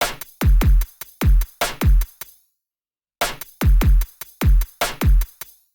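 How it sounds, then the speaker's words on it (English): Electronic drum kit in a dance-track drop: punchy kicks with snare and crisp hi-hat hits in a steady, loud pattern, cutting out briefly to near silence before the beat returns. "So these drums together in the drop sound like this."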